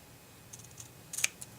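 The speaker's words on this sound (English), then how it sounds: "The only thing I'm going to do is just maybe snip it a little bit." Scissors snip through tape at a papercraft table during a marker-coloring session: a couple of crisp, quick cuts close by, quiet overall, with no one talking.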